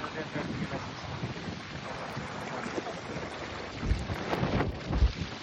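Strong wind buffeting the microphone in a continuous rumbling roar at Bowness Park, with heavier gusts toward the end.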